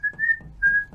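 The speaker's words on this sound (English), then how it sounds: "very annoying whistle." A character whistles a short tune in the video game Final Fantasy VII Remake, clear sustained notes repeated in a quick, catchy pattern, close and alone with no talk over it.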